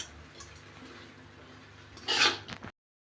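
Brinjal kuzhambu stirred in a cooking pot, heard as a soft bubbling simmer followed by a brief louder scrape and clatter of the spoon against the pot, then silence.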